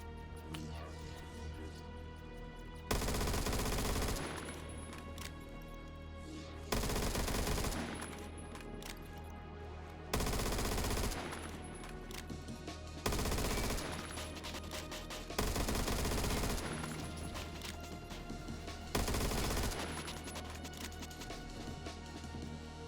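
M16A1 rifle fire in a video game, seven loud close bursts of rapid automatic shots spaced every few seconds over a quieter steady background.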